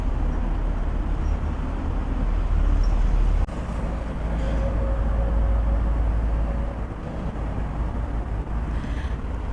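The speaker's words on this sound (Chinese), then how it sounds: "前方驶过来的这一列火车啊，是高7005次，是南京站始发的" A high-speed train on the Nanjing–Shanghai intercity railway approaches beneath a pedestrian overpass, a steady loud low rumble and rushing roar, with a faint high whine partway through and heavy wind buffeting.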